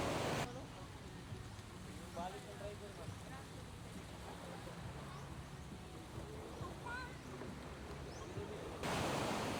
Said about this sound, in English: There's a beach here behind me that we're swimming at.